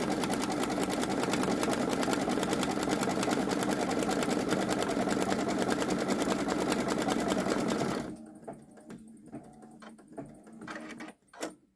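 A Babylock Solaris Vision embroidery machine stitches a design onto a T-shirt with a fast, even, close mechanical whirring that stops abruptly, leaving a few faint clicks and handling noises.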